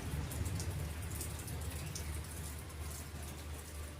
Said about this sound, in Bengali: এখন নেমে গেল বৃষ্টি, এই যে বৃষ্টি পড়ছে